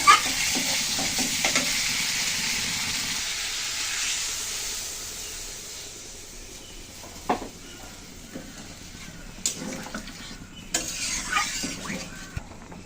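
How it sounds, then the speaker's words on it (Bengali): Shing fish curry with ginger and cumin sautéing in a pan, a loud sizzle at first that settles to a quieter simmer, with scattered knocks and scrapes of stirring near the end. "দিয়ে মাছ তরকারি দিয়ে সাথে আবার একটু ভালো করে কষিয়ে নিচ্ছি।"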